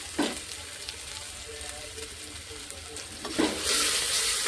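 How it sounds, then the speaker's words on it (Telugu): Ginger garlic paste frying in a pan, a steady close sizzle with a couple of sharp stirring scrapes and a burst of louder hissing near the end. "కొంచెం అల్లం వెల్లుల్లి పేస్ట్ కొంచెం పచ్చి వాసన పోయే వరకు వేగించేసుకున్నాం"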